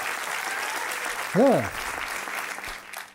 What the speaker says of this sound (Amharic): አጨብጭቡ እስቲ ለራሳችሁ